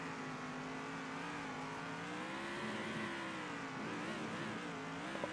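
Race car engine in the Circuit Superstars video game holding a steady, continuous drone on a victory lap, the pitch wavering slightly as it surges, loud and unbroken with no voices.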